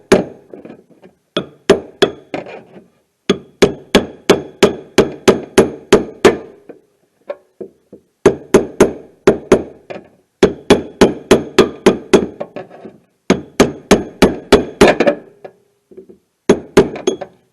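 A long punch hammered against the plastic tabs of a fuel pump on a 1994 Cadillac DeVille 4.9: loud, close metallic strikes come in rapid bursts of about eight to ten blows, separated by short pauses, with no talking.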